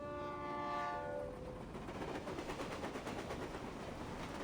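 A passenger train runs on its rails, a steady rumbling roar with rhythmic clatter throughout, opening with a sustained horn-like tonal blast for the first second or so; no talking.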